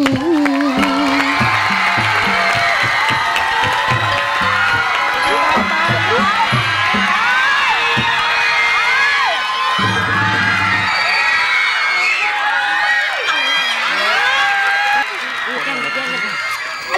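An audience at a Thai likay singing contest show cheers, whoops and applauds loudly and steadily, with excited shouting mixed into the crowd noise and a voice talking over it.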